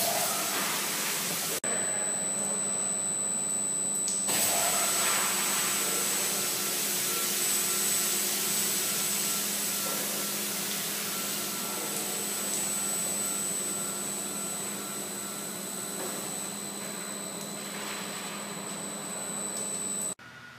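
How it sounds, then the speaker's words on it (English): A car wash top wheel brush runs with a loud, continuous roaring whoosh of spinning bristles and spraying soap and chemical, steady throughout the clip with a slight drop in level near the end, with no talking. "we're going to verify that the top wheel is functioning correct, going up and down"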